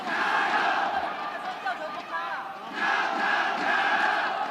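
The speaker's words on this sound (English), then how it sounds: "Not a large crowd, but making a large amount of noise here this evening for their home side." A Chinese Taipei home crowd at a 2019 U19 Asian rugby match against South Korea roars and chants loudly in waves, dipping briefly in the middle before surging again, heard from a distance across a large space.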